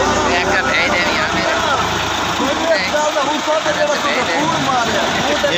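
A tractor idles while hitched to a heavy trolley loaded with sugarcane and stuck in mud. The engine makes a steady, close mid-pitched rumble, and voices talk over it throughout.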